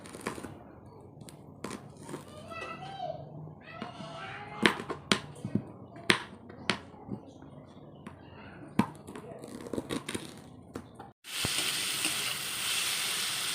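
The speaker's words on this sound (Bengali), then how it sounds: "পেঁয়াজ দিয়ে কুতলি ভাজা" Steady sizzling of a vegetable frying with onion rises suddenly near the end, after a stretch of scattered clicks and taps from kitchen work.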